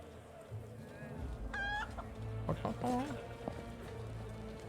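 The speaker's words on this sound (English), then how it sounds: "Chicken!" Chicken clucking in a fantasy role-playing game, a run of sharp, rising squawks and clucks over steady game music, with someone talking over the sounds.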